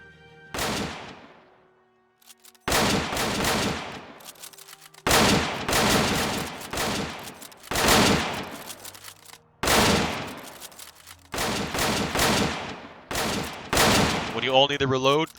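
Rifle volleys on a firing line, roughly six loud, sharp blasts at irregular intervals, each with a long decaying echo, the shooters firing together in a group.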